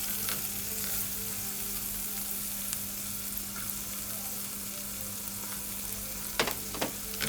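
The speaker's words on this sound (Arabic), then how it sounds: "هشوح بقى الخضار ده كله مع بعضه تشويحه حلوه كده" Mixed vegetables sizzle steadily as they are sautéed together in a pan, a continuous close frying hiss with occasional stirring clicks and scrapes near the end.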